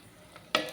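Tempering spices hit hot oil in a clay pot for moong dal rasam, giving a sudden short sizzle burst after a moment of quiet stirring.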